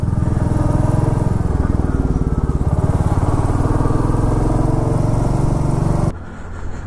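Motorcycle engine running steadily while riding through traffic in Kohima, a loud, close, even puttering throb that drops off abruptly near the end.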